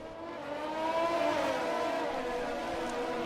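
Steady high-pitched engine drone of a Formula 1 car racing in F1 2020, holding a sustained whine that rises slightly in pitch as it accelerates, with no voices.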